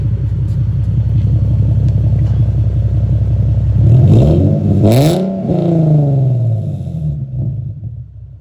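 A Nissan 370Z Nismo with a Greddy GPP RS-Race single-exit aftermarket exhaust: loud, deep exhaust rumble idling, then a sharp rev that rises and falls before settling back into a low burble.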